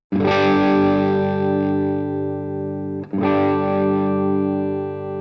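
Distorted electric guitar chords ring out loud and sustained through a Bogner Ecstasy Mini 30-watt tube amp head with presence turned up, one held chord fading, then a second strum at about three seconds.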